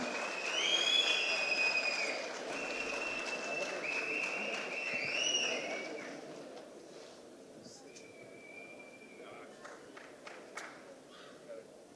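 Audience applause at a book launch ceremony in a hall, a broad wash of clapping that swells over the first several seconds and then fades to scattered claps and room noise.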